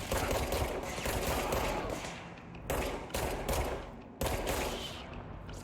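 Rapid gunfire in the game Control, loud close bursts of automatic shots in several separate volleys with short gaps between them.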